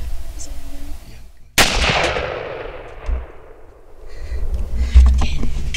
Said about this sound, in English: Yeah, go ahead and shoot him.